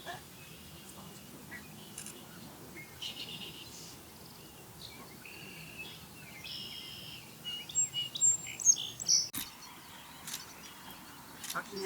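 Ospreys at their nest, with adults and three chicks about four weeks old as the male returns with a fish, give faint, high, thin chirping calls that cluster in a brief flurry over a quiet outdoor background.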